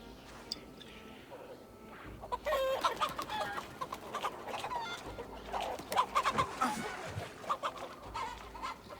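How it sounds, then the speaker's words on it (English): Chickens in the video game Assassin's Creed Valhalla cluck and squawk in busy, overlapping bursts that rise and fall, with a person talking over the flock. "Getting chased by chickens."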